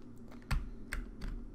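Keys on a computer keyboard are pressed while playing a game that runs in a terminal, several separate clicks at an irregular pace, close and fairly quiet.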